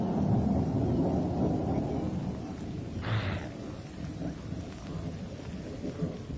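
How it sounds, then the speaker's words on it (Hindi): Summer rain pours steadily in a dense, continuous wash while low thunder rumbles underneath, with a brighter crack partway through. "और साथ में गर्मियों की बारिश।"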